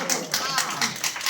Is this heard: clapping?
yes